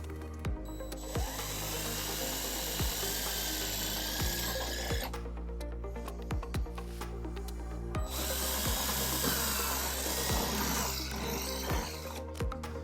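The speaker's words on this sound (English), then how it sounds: "we're going to use a 1/4 inch drill bit, and we're going to drill our first hole" A power drill with a 1/4-inch bit whirs steadily as it bores into wood during trailer wiring installation on a 2016 Infiniti QX50, the motor pitch dipping and rising under load, with brief pauses and clicks between runs.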